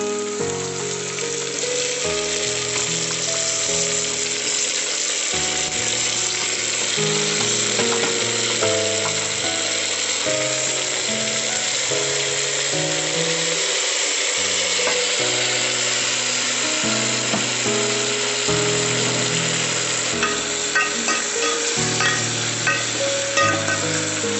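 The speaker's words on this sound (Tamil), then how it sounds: "தக்காளி ஆட் பண்ணுறோம்." Tomatoes frying in a pan for Amma-style tomato pachadi, stirred with a utensil; a loud, steady sizzle runs throughout with scraping and tonal clatter from the stirring, and no voices.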